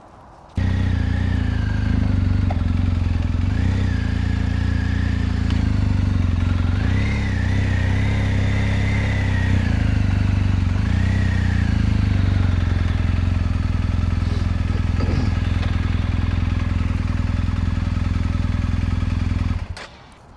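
A touring motorcycle rides into a Redverz Atacama tent, its engine running steadily and loudly for about twenty seconds with small revs and clatter, close up and with no talk.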